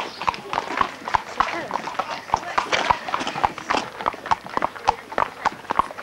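Horse hooves clip-clop in a steady, quick rhythm during a ride, close and clear, with a whinny-like sound here and there.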